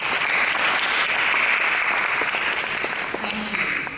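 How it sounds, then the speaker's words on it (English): Steady, loud applause from a large audience at a taxation seminar at the Bombay Stock Exchange fills the whole stretch without pause. "A welcoming round of applause for our guests"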